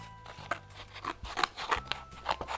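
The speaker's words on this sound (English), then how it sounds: "And you'll just keep on cutting it and keep on cutting it." Scissors snip through paper to cut out a tree shape, giving a close series of short crisp crunchy cuts at an uneven rhythm over a few seconds, with no speech.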